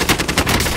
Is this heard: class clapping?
no